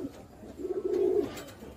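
A Teddy pigeon in a hobby loft gives one soft, low rolling coo that swells and fades over about a second, otherwise quiet.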